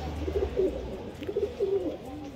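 High flyer pigeons at a loft coo softly in a few low, throaty bursts, close by against quiet background noise.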